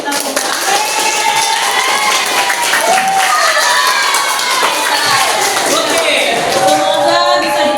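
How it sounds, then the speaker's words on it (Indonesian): A class of students claps together in a classroom, a dense, loud burst of applause with some cheering and shouting, continuing steadily with voices mixed in. "Tepuk tangan untuk kita semua."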